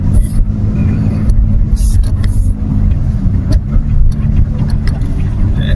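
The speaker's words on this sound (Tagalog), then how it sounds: "maaga yung traffic dito sa San Fernando" Road traffic in San Fernando, Pampanga, a loud continuous rumble of passing cars and engines close by, with faint voices buried beneath the steady noise.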